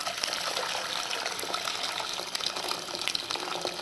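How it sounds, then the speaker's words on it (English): Hot water gushes steadily into a pan on the stove, a close, continuous pouring rush without pause and with no one speaking. "In here I'm going to add the hot water in."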